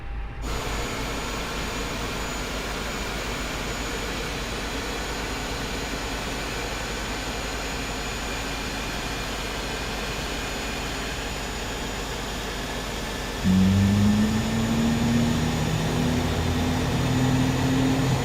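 A320 jet engines in MSFS2020, a steady cabin whine and hum, then an engine spooling up partway through with a rising low drone that grows louder and holds.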